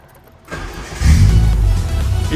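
A Peugeot 106 engine cranks on its starter motor and catches, rising from a short whirr into a loud, steady running roar close by with no talk.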